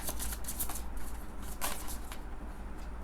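Tarot cards are shuffled and arranged by hand, a close, quick series of riffling and flicking bursts over a soft background.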